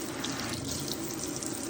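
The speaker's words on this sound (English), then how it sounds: "turn the water off" Hot water running steadily from a faucet into a sink, a continuous close rushing splash with no pauses and no speech.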